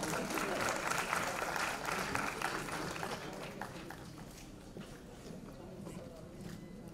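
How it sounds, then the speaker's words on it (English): An awards-ceremony audience applauds with dense, sustained clapping that starts loud and gradually thins out over several seconds, with no voices rising above it. "A big round of applause for Mrinal Deshraj"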